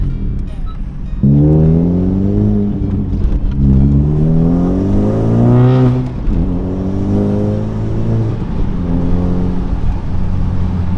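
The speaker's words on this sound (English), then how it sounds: "Brakes are feeling a little squishy, so John's gonna take a little quick go at it and see how he feels about it." A 10th-generation Honda Civic Si engine revs up and shifts through gears in repeated rising sweeps on a test drive after a big brake kit install, loud and close, with steady road noise throughout.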